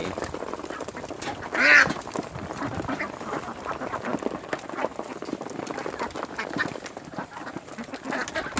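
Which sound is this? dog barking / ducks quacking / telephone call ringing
ducks quacking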